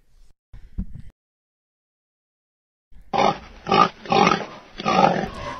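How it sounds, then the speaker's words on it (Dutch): A pig in a farm pigsty lets out a brief snort, then after a pause a close, loud run of rhythmic grunts, heard alone. "Het varken steekt zijn kop uit de stal."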